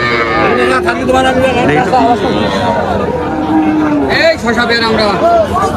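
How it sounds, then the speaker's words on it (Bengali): Busy outdoor cattle market at Tepakhola, Faridpur, with many people talking over each other while cows low repeatedly nearby, several moos rising out of the crowd noise. "এই যে একটা গাভী, আরো গাভী দেখবো।"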